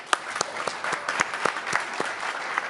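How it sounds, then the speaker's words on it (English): Audience applause at a World Economic Forum session, a steady wash of clapping with sharp individual claps standing out, moderately loud and continuous throughout. "So I think we should give them a big applause for that."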